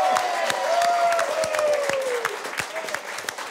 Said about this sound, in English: a big round of applause for New Zealand First, Tracey Martin.